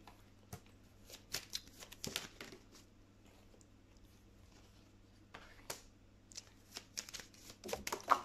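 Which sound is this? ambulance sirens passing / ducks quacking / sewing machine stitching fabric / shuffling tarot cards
shuffling tarot cards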